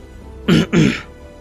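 A person clears their throat close by with a short two-part ahem, then silence.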